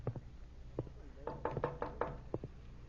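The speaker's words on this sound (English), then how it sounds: "And he's coming in. Oh, dear. Answer the door, Freddie, while I get rid of this apron." Knocking at a door in a radio drama: a couple of isolated raps, then a quicker run of firm knocks and a final single rap, fairly close and clear.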